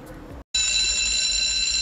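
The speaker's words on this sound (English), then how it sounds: "that's our timer on the brew day here" A brewing timer on a commercial brew day sounds a high, steady electronic alarm tone that starts abruptly after a short gap and holds continuously, ringing loud over faint low room noise.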